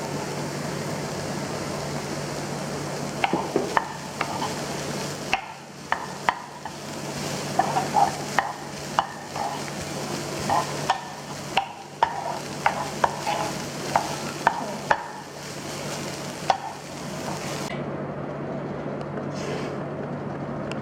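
Spring onion stirred and frying in a pan with cassava cooking, a continuous sizzle under repeated clinks and scrapes of a utensil against the pan, then falling quiet near the end.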